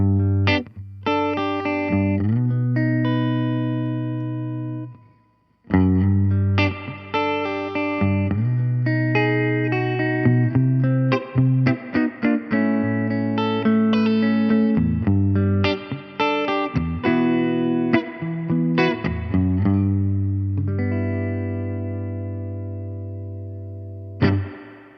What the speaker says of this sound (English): There is the short spring that gives you a tighter onboard spring reverb sound.